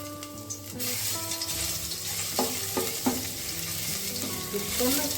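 Oil sizzles steadily as a spice tempering fries, with a few clinks of a utensil and a humming tone in the background; no talking.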